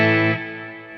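A clean electric guitar chord rings out loud with reverb, its bright sustained harmonics fading steadily after the strike with no other sound around it.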